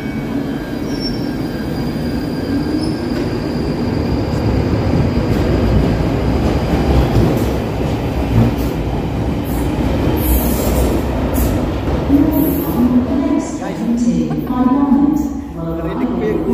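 A London Underground train arriving at the platform gives a loud, continuous rumble with squealing wheels and screeching brakes, and a voice talks over part of it.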